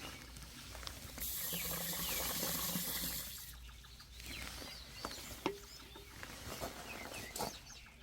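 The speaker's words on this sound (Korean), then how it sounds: "먼저 약액이 잘 녹도록 물을 조금 해서 희석을 한 다음에 SS기에 넣어줍니다" Diluted pesticide solution is poured into an SS sprayer tank on a farm, a soft, splashing liquid flow with intermittent patter and faint chirps in the background.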